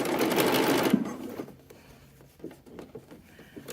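A home sewing machine stitching baby clothing runs in a fast, loud whirring burst for about a second, then stops, leaving quiet handling clicks and rustles.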